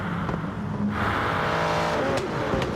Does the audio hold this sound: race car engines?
yes